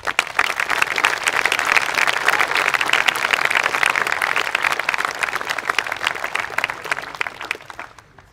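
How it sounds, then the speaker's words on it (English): Audience applause at a school commencement ceremony, a dense, sustained round of clapping from a crowd that holds steady and fades out toward the end. "Let's give them a well-deserved round of applause."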